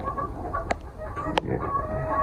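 Laying hens in a small egg-producing flock clucking nearby, with two sharper squawks standing out over a low murmur of clucks and background noise.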